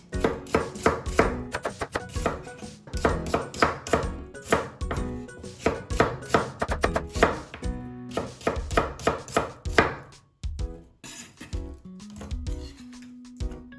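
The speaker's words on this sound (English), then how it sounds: "First I'm going to cut up the onion." A knife chops peeled onion into small strips on a board, rapid sharp close taps in fast bursts with a brief pause, then slower cuts.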